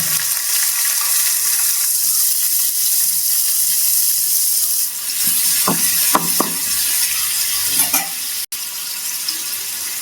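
Fennel seeds and small shallots frying in moderately hot oil for a sambar, giving a steady close sizzle with a few brief stirring clinks near the end.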